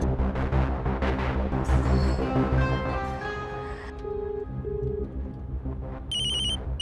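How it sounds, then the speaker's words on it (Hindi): A mobile phone ringtone sounds loudly and repeatedly in a TV crime drama, a melodic electronic tune over a dense musical background, with no talk over it. "ये फोन क्यों नहीं उठा रही है?"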